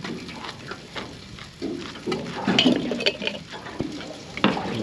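Coral trout cooking in a pan with soft sizzling and frying, interrupted by stirring and the scrape and clink of utensils against the pan, close and moderately loud.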